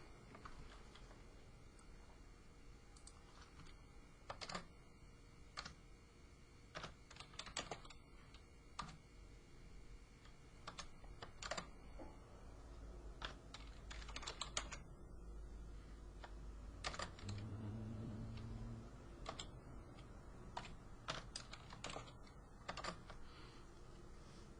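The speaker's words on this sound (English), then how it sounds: "Make sure I type that in correctly." Keys on a computer keyboard click in irregular bursts of typing, close and moderately quiet, with short pauses between runs.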